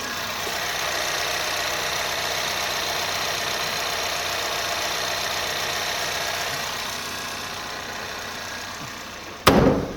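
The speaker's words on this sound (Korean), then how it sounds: "엔진음 들려드릴게요" The engine of a 2020 seven-seat used car idles quietly and steadily with the hood open, at close range, a smooth continuous hum with a brief clunk right at the end.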